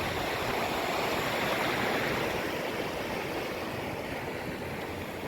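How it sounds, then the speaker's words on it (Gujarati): Swollen river water pours into Munjiyasar Khodiyar dam near Bagasara during ongoing rain, a loud, steady, unbroken roar of rushing flow close by. "આ બધું આપણે મુંજિયાસર ખોડિયાર ડેમની અંદર જાય જ પાણી"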